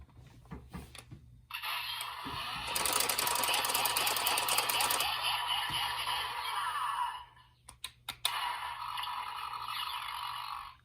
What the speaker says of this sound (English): Got some nice little electricity sound effect going on